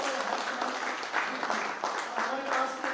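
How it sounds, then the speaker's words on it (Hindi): An audience at a speech event in India breaks into sustained clapping, a dense continuous patter of many hands lasting the whole stretch. "हमारे बीच में जोर से एक बार ताली हो जाए"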